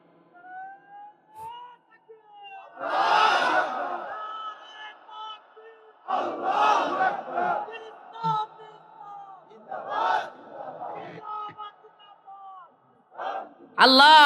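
A large crowd at an Islamic sermon shouts the takbir, Allahu Akbar, in several loud, massed bursts that swell and fade, with a lone preacher's amplified voice leading between them.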